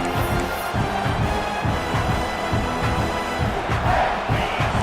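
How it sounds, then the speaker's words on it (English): A stadium crowd roars steadily in a college football video game, Ole Miss versus South Carolina, a dense, loud wash of cheering and yelling that holds without pause throughout. "This crowd trying to make life miserable for this offense"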